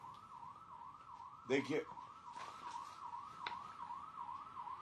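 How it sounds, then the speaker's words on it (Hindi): A vehicle siren on the road wails in a steady, regular up-and-down cycle, fairly loud and continuous, with a brief burst of speech and a few clicks over it. "एक तो सायरन की आवाज आ रही है"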